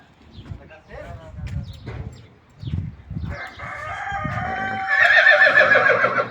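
Roosters crowing and pigeons in an animal pen in Saudi Arabia, the calls rising behind people talking nearby, with a louder crow near the end.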